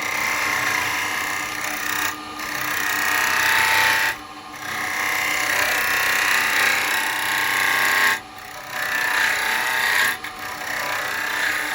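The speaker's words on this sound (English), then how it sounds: "I'm going to go to a 1/2 inch spindle gouge because we're small now" A 1/2 inch spindle gouge cuts a small spindle of freshly acquired wood on a lathe, giving a loud continuous shearing hiss broken by a few brief pauses as the tool lifts off, with no talk.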